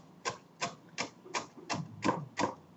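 A knife chops and dices vegetables on a cutting board for lentil soup, seven evenly spaced, close, solid thuds in a steady rhythm.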